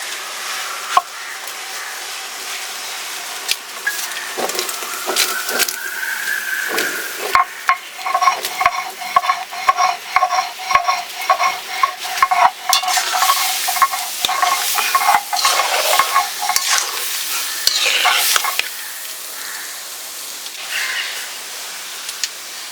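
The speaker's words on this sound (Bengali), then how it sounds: "আমার চিনি গলে গেছে, আমি এখন রয়্যালটা দিয়ে দেবো" Royal or noler fruit is stirred into melted sugar in a pan for a sweet pickle, with a soft sizzle under repeated close spoon scrapes and clatters that come in uneven bursts.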